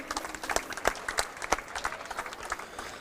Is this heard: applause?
yes